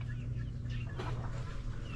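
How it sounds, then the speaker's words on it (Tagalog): Rhode Island Red hens clucking softly in short bursts over a low steady hum, with a few sharper calls from nearby birds. "babaeng manok na Rhode Island"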